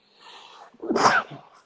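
A single loud human sneeze bursts out after a brief lead-in of breathy sound, close and sharp, during an interview-style conversation.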